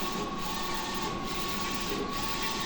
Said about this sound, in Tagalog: Ayan po, naka-on naman po yung fan natin. Umiikot.